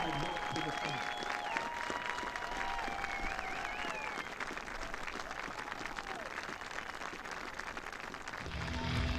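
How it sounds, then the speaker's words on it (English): A round of applause from a crowd at a live-streamed community event, sustained and fairly distant, with people talking over it. "with a round of applause up top from those you have helped to the front"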